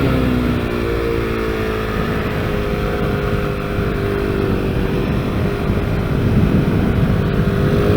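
A Honda NSF100 motorcycle idles after extended storage and carburetor cleaning, its single-cylinder engine putting out a loud, close, steady buzzing putter whose pitch wavers slightly, with an idle speed that needs adjusting.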